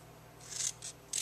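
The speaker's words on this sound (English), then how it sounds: "then I took a pair of scissors" Scissors cut through a sheet of chocolate chip patterned paper for a handmade birthday card, giving three short crisp snips close by over a faint steady hum.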